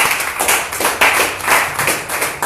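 Rhythmic clapping from a church congregation during a sermon on the Gospel of Luke, close and loud, steady beats roughly every half second.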